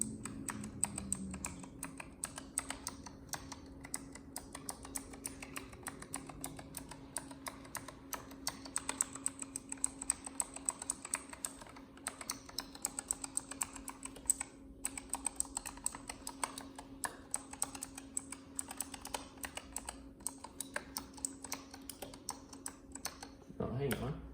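Fingers test every key on a Razer Huntsman Elite keyboard, producing a rapid, uneven stream of crisp clicks and clacks that runs without pause, with a steady electronic hum beneath and occasional speech mixed in.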